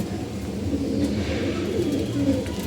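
A pair of domestic pigeons coos softly in a steady, low murmur, close by and with no talk over it.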